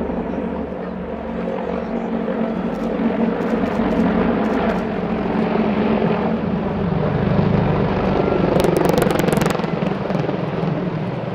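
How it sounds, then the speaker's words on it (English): Several Mi-28 attack helicopters fly a display routine at an air show in Zhukovsky, giving a steady, loud, continuous rotor and engine roar that swells slightly near the end. "Most spectacular helicopter display team, but very unusual indeed,"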